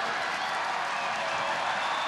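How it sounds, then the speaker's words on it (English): A stadium crowd at the Hawaii Bowl college football game cheers and claps in a dense, steady roar that stays distant and fairly faint, with no single voice standing out. "Crowd's really getting into it."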